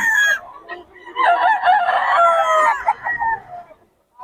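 A rooster in Bocaue lets out a loud, close crow that stretches over a couple of seconds, with a few short clucks and calls before and after and no speech over it.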